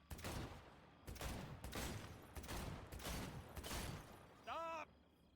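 Gunfire in a Jedi video game comes as several rapid, close bursts separated by short gaps, ending in a brief ringing mechanical whine.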